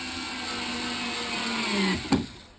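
A screwdriver drives a screw into a 3D printer extruder with a steady motorized whine. The pitch drops as the screw seats, then a short clunk and the whir fades out.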